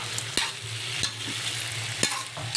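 Shrimp cooking in butter in a pan gives a steady, close sizzle, broken by several sharp clicks of a utensil stirring against the pan, with no talking.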